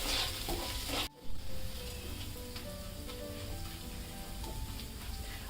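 Rice grains fried in ghee for sweet coconut rice, a constant close sizzle with light stirring clicks and scrapes after a short pause early on.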